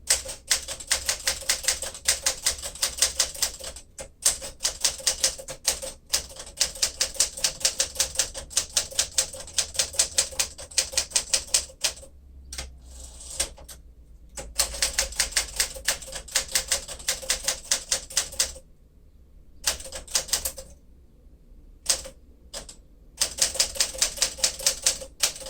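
Brisk, steady keystrokes on a 1954 Smith-Corona Sterling manual typewriter, close and loud, with sharp metallic type-bar strikes in runs broken by short pauses and occasional carriage sounds.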